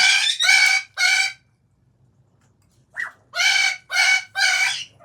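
Loud, harsh calls of wild parrots flying overhead in bursts, three squawks, a pause, then four more, close by over a faint low hum.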